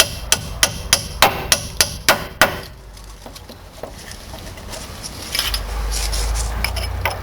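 Eight sharp metallic hammer taps in quick succession drive a nut through a Peugeot 206 wishbone ball joint using a socket as a pot, followed by quieter shuffling and a low background rumble.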